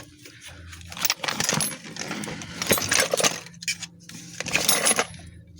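Metal sockets clink and rattle against each other while being sorted by size during a 2000 Honda CR-V head removal, a series of irregular close metallic jingles and taps with short quiet gaps.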